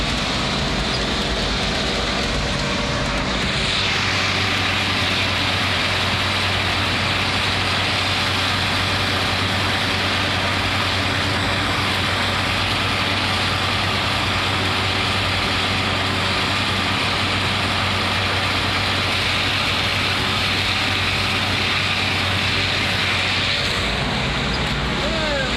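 A mower cutting sorghum Sudan grass gives a loud, continuous mechanical roar with a steady engine hum beneath it. The noise shifts slightly partway through and then carries on unbroken.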